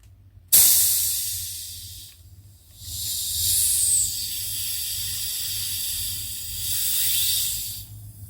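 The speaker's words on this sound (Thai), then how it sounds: "ดูความซ่าของเขานะเพื่อนๆนะเราห้ามเปิดฝาแบบพวดผ้าทีเดียวไม่ได้นะคะ น้ำพุ่งหกเลยนะ" Bottle of homemade mangosteen tepache being opened, a sudden sharp release followed by a long fizzing hiss that swells and eases in waves for several seconds, close and steady.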